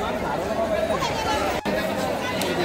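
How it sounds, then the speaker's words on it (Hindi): Dense crowd chatter at the Pandharpur pilgrimage site, a continuous babble of many voices near and far with a brief dip partway through. "देखिए भीड़ कितनी ज़्यादा है यहाँ पर"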